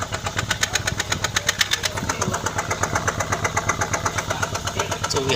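A Subaru engine idles roughly with a cylinder 4 misfire caused by a faulty ignition coil, giving an uneven, pulsing chug that stumbles in a steady rhythm, heard close up with no talking.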